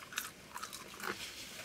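Close, crisp crunches of biting into crispy Belgian fries during a mukbang meal, three or four distinct bites spaced across under two seconds with soft chewing between.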